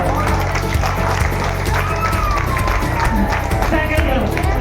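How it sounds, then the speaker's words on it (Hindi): Dense, steady clapping from an audience at a school quiz competition final round at Garden Model Academy, loud and close, filling the whole stretch with a voice talking over it. "तालियां बजाओ इनके लिए"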